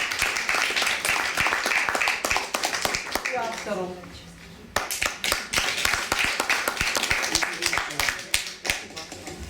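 An audience at a creative evening in Alagir claps, with quick, sharp hand claps and bursts of applause around a short spoken phrase from a host, a brief lull, then the clapping resumes in a lively, uneven patter.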